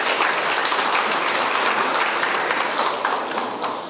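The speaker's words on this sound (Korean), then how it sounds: "우리 오신 분들 서로에게 박수로 서로를 환영해 주셨으면 좋겠습니다." An audience at the 2019 Siheung innovation education forum on Korean local education autonomy, held at Siheung ABC Happy Learning Town, claps in welcome, a loud steady applause that fills the room and tapers slightly at the end.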